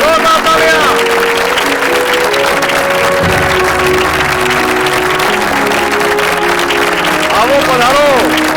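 A crowd at an award ceremony keeps up loud, continuous applause for a winner, with a hum and some tonal sounds rising from the hall beneath it.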